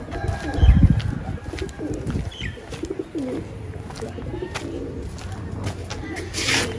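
Pigeons coo softly on a rooftop among a loft of pet birds, one with an eye problem, with scattered chirps, light rustling and occasional wing flaps against background noise.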